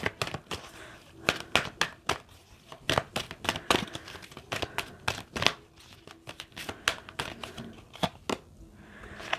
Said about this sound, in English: let's get a few more oracle cards